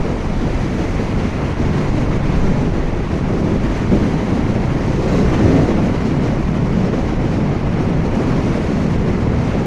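Wind gusts buffet the microphone during a bike ride, a loud continuous low roar that swells slightly midway and never lets up.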